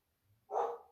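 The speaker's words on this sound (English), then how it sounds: "dog barking in the background" A single short dog bark, faint and distant, heard alone in the background.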